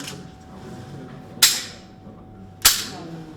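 Two sharp, loud gunshots ring out about a second apart at a shooting practice over a quiet background hum, each with a short fading echo.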